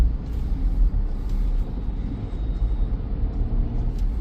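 A two-seater car's engine rumbles steadily and low at a service center, a continuous close drone with no speech.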